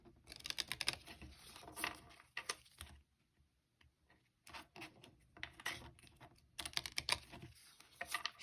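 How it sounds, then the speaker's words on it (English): Small, tiny tarot cards are shuffled in close-up, a dense flutter of crisp riffling bursts broken by a short near-silent pause before the shuffling resumes in two more rapid flurries. "These cards are tiny, so they're a little hard to shuffle."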